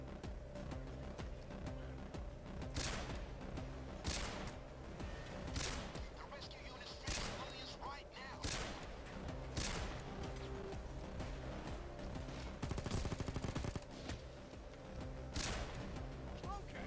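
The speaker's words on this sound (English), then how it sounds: "Let's try to shoot a shield." Sniper rifle fire in the heist shooter PAYDAY, aimed at a shielded enemy: sharp, loud shots repeat roughly every second and a half over a steady bed of game music and background noise.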